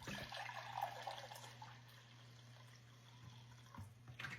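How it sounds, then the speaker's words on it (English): White vinegar pours into a pan of water for pickled beet brine, a soft, continuous liquid splash that gently tapers off, quiet and close. "We're going to add 7 cups of white vinegar."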